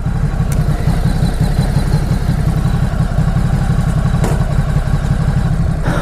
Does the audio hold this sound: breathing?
no